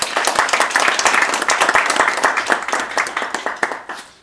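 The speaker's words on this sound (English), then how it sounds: "Okay, one more round of applause for Yolanda." Audience applause at a satellite workshop session for presenter Yolanda, a dense stretch of many hands clapping at steady strength that thins toward the end.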